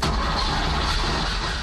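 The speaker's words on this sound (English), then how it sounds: "Listening to the sound of the 6-cylinder Boxer engine is a treat in itself" A car's 6-cylinder Boxer engine runs in a loud, steady roar with a dense rumbling body, unbroken and close for the brief moment.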